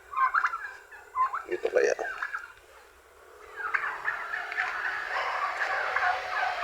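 Turkeys gobbling on a Filipino backyard farm where they forage, a couple of bursts of throaty rattling calls near the start, then a steady, busy layer of fowl chatter, with a brief spoken remark in between.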